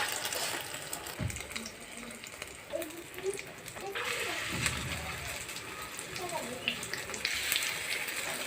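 Egg-dipped tikkis made from ridge gourd (tori) peels fry in hot oil with a steady bubbling sizzle that swells louder partway through, while a voice talks faintly under it.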